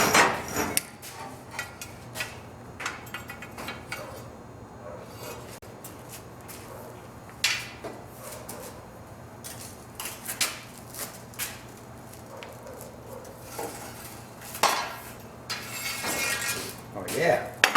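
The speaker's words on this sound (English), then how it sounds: "I'm going to attempt to bend the curve with the hickey bar." Square metal tubing being bent with a conduit bender hickey bar, scattered metallic clinks, knocks and creaks of the tool working the tube at close range, irregular and moderately loud.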